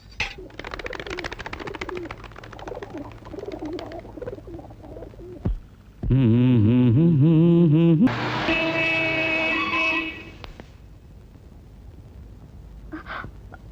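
Amid faint background sounds, a loud vehicle horn blares for about two seconds, then a second, higher-toned honk follows before fading out.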